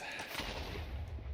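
TNT explodes in the Minecraft video game: a single dense, rumbling blast that fills the whole moment with a loud, crackling roar and no separate quiet before or after.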